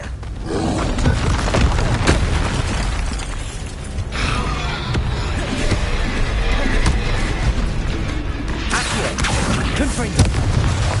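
Confringo spell explosions in Hogwarts Legacy, repeated thudding blasts and crackling impacts amid continuous loud combat noise, with voices calling out throughout.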